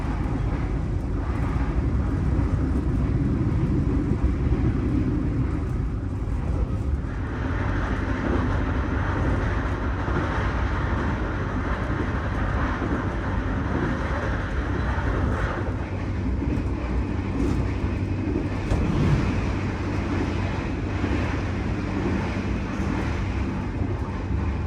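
Brantas passenger train running on rails near Cikampek, heard from inside a carriage as a loud, continuous low rumble and rolling wheel noise, steady throughout with slight shifts in texture.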